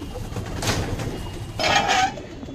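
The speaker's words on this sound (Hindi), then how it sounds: "ज़रा कबूतर पानी पी लें" Pigeons at a fancier's loft coo softly while drinking water, two short, low cooing calls close by against a quiet background with faint clinks.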